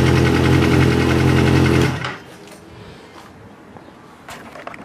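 A 2007 Kawasaki ZX6R engine runs close and loud with a fast, high buzzing tone for about two seconds, then cuts off abruptly, leaving quiet shuffling and faint knocks.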